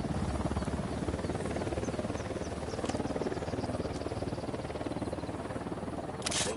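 An enemy unit helicopter in Ghost Recon Wildlands thrums steadily with a rapid rotor pulse, holding a constant mid-distance drone throughout with no talk over it.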